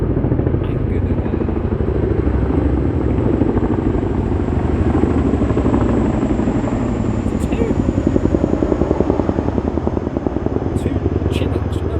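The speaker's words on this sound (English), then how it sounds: "two Chinooks, you know those big ones with double props" Two big twin-rotor Chinook helicopters pass overhead, a loud continuous rotor rumble with a fast throbbing beat that swells slightly toward the end.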